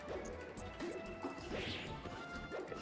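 Heavy smash impacts from forward smash attacks in a Super Smash Bros online tournament match, several thuds and whacks over about three seconds within dense game noise and crowd-like background.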